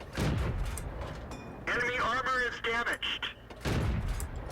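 Heavy tank cannon fire booms in a World of Tanks battle, with loud, rumbling broadband bursts at the start and again near the end, and someone speaking between them.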